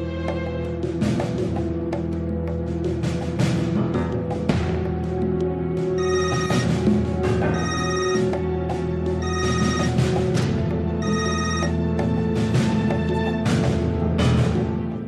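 A telephone rings continuously with an incoming call, a loud, steady electronic ringtone with repeating melodic bursts and no pauses.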